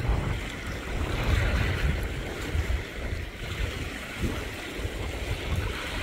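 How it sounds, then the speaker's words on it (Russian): A patrol boat on the Ruza reservoir, heard as a steady low engine rumble with wind buffeting the microphone and water washing against the hull, continuous and fairly loud. "Так, сторожевой катер."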